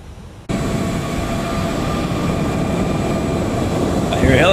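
A four-engine Cathay Pacific airliner on its takeoff roll at Taiwan Taoyuan International Airport kicks in abruptly with a loud, rumbling roar and steady engine hum, building slightly in intensity as it accelerates, with a brief whistling tone near the end.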